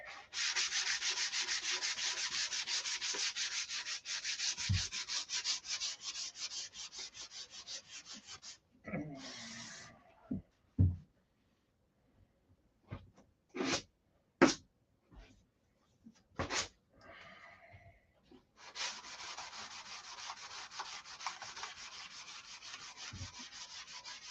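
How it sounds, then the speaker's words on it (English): Sanding the painted fuselage of a SIG Magnum model airplane, a steady close rasping rub in long passes, broken midway by a few short strokes and small knocks before continuous sanding resumes. "You can see when you sand this where it needs to be sanded, it leaves the shinies all the way up and down."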